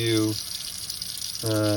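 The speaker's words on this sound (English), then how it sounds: "That was just residual water that came out" Leftover water spurting briefly from a sink faucet while the water pump is switched off, a short gush of watery noise set between stretches of a person talking.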